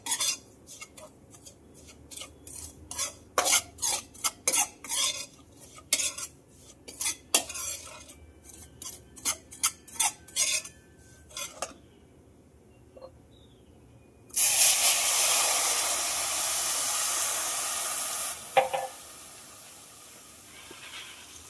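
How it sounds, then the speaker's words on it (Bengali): Semolina frying in ghee for halwa, a spoon clinking and scraping rhythmically against the pan for about twelve seconds, then a brief pause and a loud, close hiss for several seconds. "একটু ভালো করে ঘিয়েতে লাল লাল করে ভেজে নিই"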